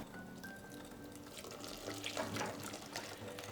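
Milk trickles gradually into batter in a saucepan, a faint, soft stream of pouring liquid with light splashy bursts, quiet and close with no voices.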